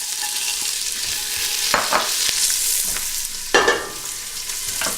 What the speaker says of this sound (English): we're just going to put in a little bit of oil, and we can saute off our onions